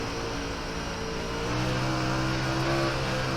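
A World of Outlaws dirt late model race car in the iRacing game drones steadily, its engine tone rising slightly as it spins out, loud and continuous with no speech.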